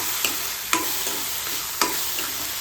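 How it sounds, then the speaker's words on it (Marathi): Peanut powder being stirred into tomato chutney in a pan, a spoon scraping in a few distinct strokes over a soft, steady sizzle, close and alone with no talk. "आता मस्त हलवूया ह्याला"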